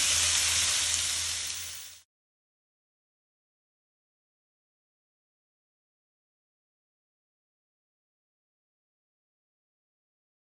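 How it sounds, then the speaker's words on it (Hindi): Ingredients frying in a pan over a medium flame, a loud steady sizzle for about two seconds that cuts off abruptly into silence. "अब इसको पैन में ऐड करेंगे. और अब इसको मीडियम फ्लेम पे मैं डन करूँगी."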